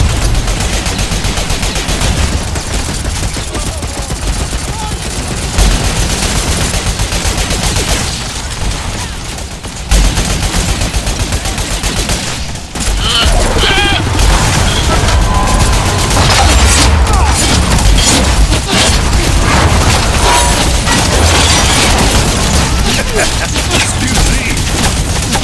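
Gunfire and grenade blasts from the video game Crucible, a dense, continuous barrage of loud shots and booms lasting throughout, with speech faintly mixed in.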